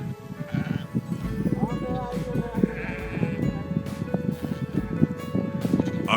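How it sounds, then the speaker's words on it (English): Sheep bleat across a wide open field, several calls rising over a steady rustling, windy outdoor background, moderately close and fairly loud. "the sheep still knew their caregiver's familiar call and came running straight to him"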